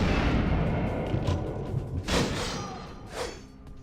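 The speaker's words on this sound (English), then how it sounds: "Grenades, don't do it, don't do it." Grenade blasts in the vampire RPG Vampire: The Masquerade – Bloodlines: a rumbling, loud bed of in-game noise broken by two heavy booming bursts a second apart, each swelling and fading.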